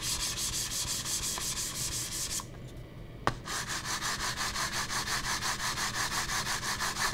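A mouse slides back and forth across a Razer Atlas glass mousepad, making rhythmic, scratchy rubbing strokes close up, with a short pause and a click midway before the strokes resume.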